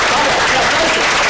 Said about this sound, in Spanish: yo quiero que reciban con un fuerte aplauso a una de las academias amigas de la casa